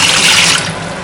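Water poured out into a kitchen sink while cooking Nando's-style chicken, a short loud splashing rush that fades slightly toward the end.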